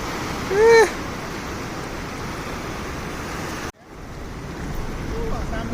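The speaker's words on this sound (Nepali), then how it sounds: "यो पेसिफिक ओसियन उताबाट नि आइरह यताउता नि आइरहेको" Pacific Ocean waves wash in on an Indonesian beach, making a continuous broad roar of surf with wind buffeting, broken briefly by a short voice near the start.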